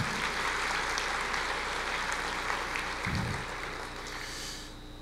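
A church congregation applauding during a sermon, a steady sheet of clapping from many hands that carries on at moderate level and tapers slightly toward the end, with no voices heard.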